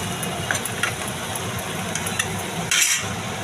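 Mourala fish curry fries in a pan with a steady, fine sizzle, broken by occasional sharper crackles and a brief louder hiss near the end, with no talking.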